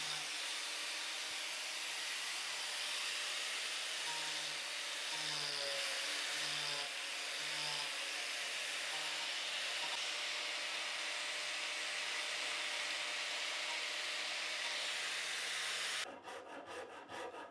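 An angle grinder cutting away wood from a custom guitar body, a continuous harsh, loud abrasive roar with a few wavering dips that stops abruptly near the end.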